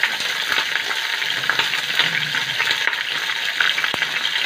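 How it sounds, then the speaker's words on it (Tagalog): Pork belly sautéing in a pan as it browns, with a loud close sizzle, crackling spatters and a few sharp stirring clicks, no voices. "So, igisa natin siya hanggang maging slightly brown."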